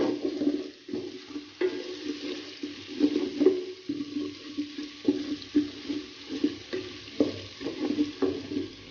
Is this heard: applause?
no